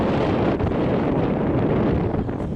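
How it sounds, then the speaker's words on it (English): Steady, heavy wind buffets the microphone outdoors at a rural sawmill where red cedar is being cut, a loud continuous roar with brief dips, no speech. "I'm hoping this wind ain't killing us here"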